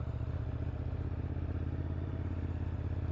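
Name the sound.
2018 Ducati Monster 821 motorcycle riding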